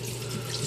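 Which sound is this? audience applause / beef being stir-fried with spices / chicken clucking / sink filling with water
sink filling with water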